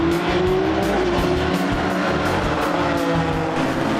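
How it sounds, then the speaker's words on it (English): Race cars in a 2013 MSA Endurance Championship race, Porsche and Chevron GT3 entries among them, roar off the start together, a loud, dense wall of engines revving hard with tyre noise throughout. "Good start from the man at the front of the field, Andy Schultz."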